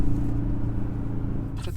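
A 2021 Audi RS Q3 quattro engine rumbles at a steady, low pitch while driving, continuous and close, with a brief higher burst of noise near the end.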